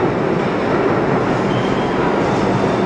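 A New York City subway train makes a loud, steady rumble and roar with no breaks, heard close up from on board or at the platform.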